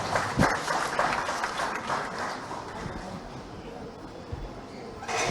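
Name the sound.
audience applause welcoming Prabhu Pateriya at award event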